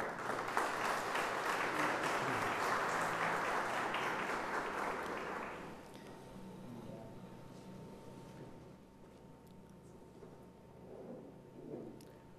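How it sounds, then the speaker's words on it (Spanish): An audience at an academic electoral-law event applauds the invited speakers, a dense, loud burst of clapping for about six seconds that then fades to scattered claps and room murmur. "pido un aplauso para ellos"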